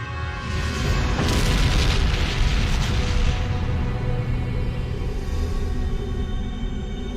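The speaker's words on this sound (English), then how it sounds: "Sheridan ordered the first nuclear bomb to explode" A nuclear bomb detonates against a Minbari vessel in a Babylon 5 space battle, heard as a loud, sustained, rumbling roar that swells early and then holds steady without a break.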